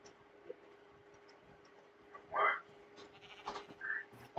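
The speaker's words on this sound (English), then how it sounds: "I hear a goat." A video game goat lets out a couple of short, thin bleats, faint and spaced apart, among quiet clicks and ticking game sounds.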